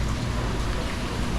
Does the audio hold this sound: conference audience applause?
no